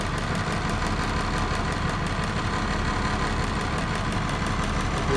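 A DT466 diesel engine idles rough with a miss, a loud, close, steady clatter with a rhythmic uneven knock running through the whole stretch, no voices.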